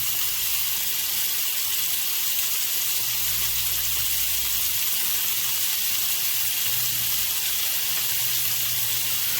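A steak searing in a hot pan sends out a continuous loud, even sizzle with a low underlying rumble, with no talk over it.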